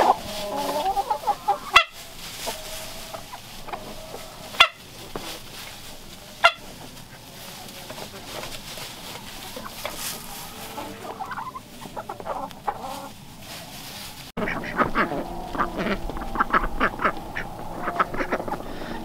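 Icelandic chickens cluck and Khaki Campbell ducks quack in a barnyard, scattered calls with a few sharp knocks, then a busier burst of overlapping quacking toward the end.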